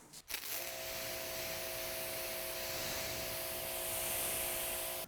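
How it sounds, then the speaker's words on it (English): A water spray rinses a vinyl trim surface, a steady close hissing spray that starts after a brief knock and continues evenly throughout. "And let's give this thing a wash. Let's rinse it off."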